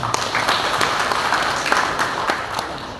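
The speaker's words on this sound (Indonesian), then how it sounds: "Tepuk tangan untuk beliaunya" A political party gathering for a Ramadan fast-breaking event with a regency head in Kediri, where an audience claps in a steady, fairly loud burst lasting the whole moment.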